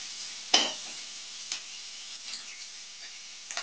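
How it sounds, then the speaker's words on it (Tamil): Onions sauté in a pan until golden for a mushroom pepper gravy, with a soft, low sizzle broken by a few clattering scrapes and knocks of a stirring spoon. "வெங்காயம் நல்லா பொன்னிறமா வதங்கி வர வரைக்கும் வதக்கணும்."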